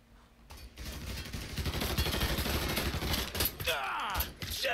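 Dense gunfire rattles through a Mafia III shootout, bursts of rapid shots stacking into a sustained fusillade at moderate loudness, with a faint creaking mechanical sound near the end.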